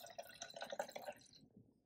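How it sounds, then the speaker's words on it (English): Water pours into a spray bottle in a quick run of faint trickling and splashing, which stops abruptly partway through and leaves near silence. "So I'm just gonna put a little bit of water in there"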